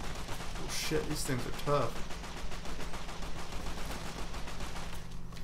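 Rapid bursts of gunfire in the video game Fallout New Vegas rattle on steadily at mid distance, under and between a man's spoken remarks.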